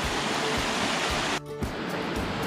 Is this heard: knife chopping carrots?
no